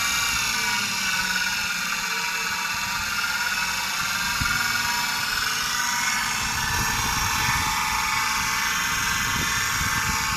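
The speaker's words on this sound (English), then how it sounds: "we'll go ahead and turn the switches for the rotary converter. Then the bench grinder." A rotary converter and a bench grinder run together in a workshop, making a loud, steady, whirring drone with a constant high whine that does not change.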